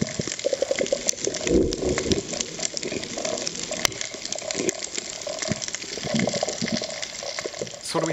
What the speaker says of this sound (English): So that is a recording from one of our reefs in Indonesia